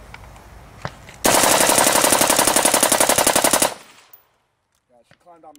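A suppressed Ferfrans SOAR-P tactical AR carbine fires a sustained full-auto burst of about two and a half seconds, a rapid even string of loud shots that cuts off abruptly, with faint voices before and after.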